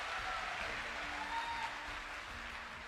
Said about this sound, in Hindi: इस पे ताली जरा जोर से बजाओ।